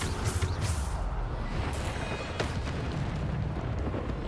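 Bombarda spell explosions in the video game Hogwarts Legacy, loud dense blasts and booming bursts layered continuously through the combat din, with a sharp impact near the middle.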